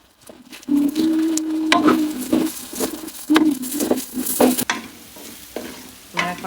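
Lentils frying in a pan with turmeric, salt and cumin, crisp sizzling punctuated by repeated scraping stirs of a spatula, close and bursty, with no talking.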